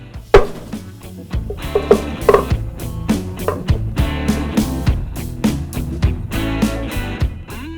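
Smoked beef shanks being shredded apart, a steady run of soft tearing and squishing with sharp knocks, close and fairly loud, with no talking.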